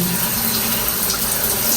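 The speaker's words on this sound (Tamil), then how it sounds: "இப்போ ஆன் பண்ணி பார்ப்போம் தண்ணி எப்படி வருதுன்னு பார்ப்போமா" Steady water gushing from a shower tap in a US hostel bathroom, a continuous close hiss and splash throughout with no pauses.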